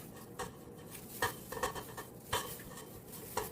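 A utensil scrapes pumpkin puree into a mixing bowl for pumpkin cream cheese muffins, giving a run of soft scrapes and light clinks against the bowl, close and moderately quiet, with no talking.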